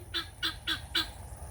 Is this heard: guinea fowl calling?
yes